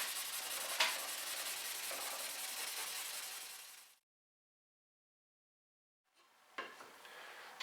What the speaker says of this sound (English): I personally like to finish off the buffing with an old woolen sock.